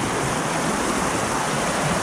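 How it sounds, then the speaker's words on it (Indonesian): Fast-flowing river water mixed with sand and stones at Plunyon Kalikuning rushes as a continuous, fairly strong hiss with no talking over it. "Oh, ini dia air yang masih cukup deras ya."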